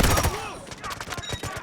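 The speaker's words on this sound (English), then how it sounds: "Artillery barrage incoming." An artillery barrage in the Delta Force Mobile video game: a loud, close burst of booming impacts at the start, then a rapid run of sharp, rattling blasts.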